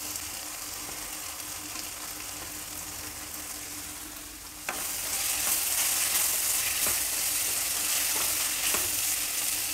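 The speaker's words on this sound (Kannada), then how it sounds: "ಸ್ವಲ್ಪ ಹೊತ್ತು ಫ್ರೈ ಮಾಡಿದ್ರೆ ಸಾಕು, ಕ್ಯಾರೆಟ್ ಬೇಗ ಬೆಂದ್ಬಿಡುತ್ತೆ." Carrots sizzle in a pan with tomato and turmeric, a steady close frying hiss that jumps louder midway as more goes in, with faint stirring ticks over it and no voices.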